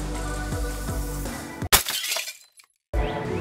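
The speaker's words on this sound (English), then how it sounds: "is my cell phone cracked into pieces. Not cool, not cool. Just dropped it on the pavement." A cell phone is dropped onto outdoor pavement and shatters, giving one loud, sharp crack and crunch of breaking glass and casing that is followed by brief scattering debris and then a short silence.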